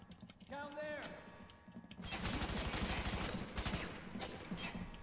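Gunfire in the shooter game F.E.A.R. 3 comes as a dense run of rapid automatic shots in the second half, after a quieter opening with a brief voice, and keyboard clatter mixes in.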